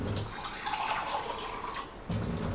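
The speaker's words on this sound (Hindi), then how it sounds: "इसमें थोड़ा पानी डाल लेंगे।" Water pours in a steady splashing stream into dry hemp chutney being prepared in a kitchen. The flow is close and continuous, then breaks off briefly before a louder splash returns near the end.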